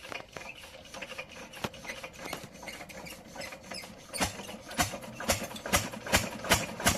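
A water-pump engine turns over and settles into a steady idle, its rhythmic knocking pulses growing more distinct toward the end.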